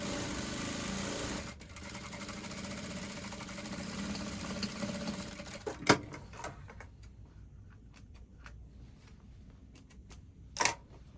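A sewing machine runs steadily while stitching a dress with a drawstring, a continuous close mechanical whirr that stops after several seconds, leaving sparse clicks and handling knocks.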